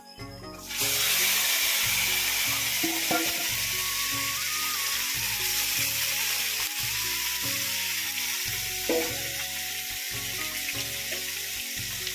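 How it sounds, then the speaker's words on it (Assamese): Onions and spices for an Assamese duck curry fry in oil with a dense, even hiss that starts abruptly and holds steady, over a low repeating background hum. "আৰু এতিয়া এনেদৰে অলপ সময় ভাজিব, লৰাই ভাজি ৰাখিব।"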